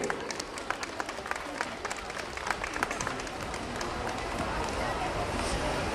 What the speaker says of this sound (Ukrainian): Запрошуємо знову ж таки ваші гучні оплески.